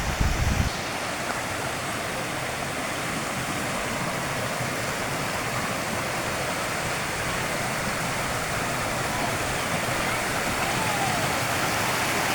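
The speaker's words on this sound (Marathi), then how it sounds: "सुंदर असा धबधबा" A continuous roar of falling water, broadband and steady, from a waterfall near Kondeshwar, Badlapur, heard close up, after a brief thump at the start.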